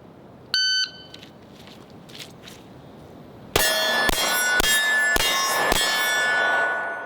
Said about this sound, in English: You're not going to hear a second beep, just 1 beep